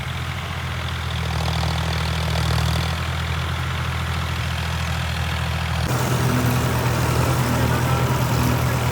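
A heavy tractor engine running steadily up close while sowing wheat, a deep continuous low rumble that shifts pitch slightly partway through.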